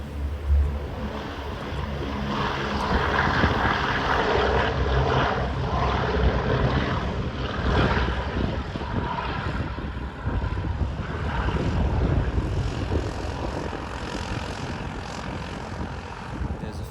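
A WW2 propeller aircraft takes off at a reenactment airshow, its piston engine roar swelling and rumbling steadily for many seconds, loud and close at first, then drifting away.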